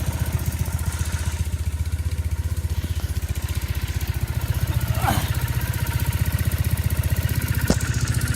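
A Triumph Bonneville motorcycle engine idles nearby, a steady rapid low putter with even pulses and faint mechanical clatter, running alone without talk.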